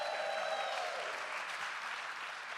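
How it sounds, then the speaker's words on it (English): Audience clapping at a large public event at a college, a dense wash of many hands applauding that gradually thins, with no voices over it. "So all you folks that just clapped"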